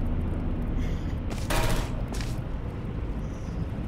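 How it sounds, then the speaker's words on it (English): Laser turrets firing in the video game Portal, heard as a loud burst of rapid bright shots around the middle over a steady roar of game background noise. "We have laser turrets."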